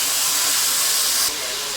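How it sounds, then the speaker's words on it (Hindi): Ginger garlic paste added to a pan for mutton pulao sends up a loud, dense, steady hissing sizzle that drops slightly in level near the end, with no voices over it. "ये 2 टेबल स्पून जो है वो मैं अदरक लहसुन का पेस्ट ऐड करके अब मैं इसको मिक्स करता हूँ"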